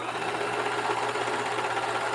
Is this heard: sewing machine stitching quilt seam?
yes